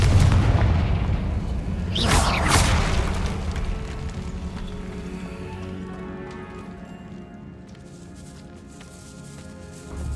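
A Confringo blast spell in the Hogwarts Legacy video game fires with a loud booming burst and a sharp crackling flare, then rolls into a long fading rumble across a decayed catacomb.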